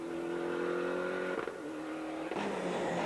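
Rally car fitted with a new turbo, driven hard on a WRC and Group A rally stage, engine loud and close, revving steadily with sharp gear changes and a rising surge of power near the end.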